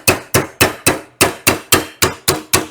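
A big hammer pecks at jammed valve spring keepers during a Trans Am engine build, ten sharp metallic strikes in a steady, quick rhythm, close and loud with no voices.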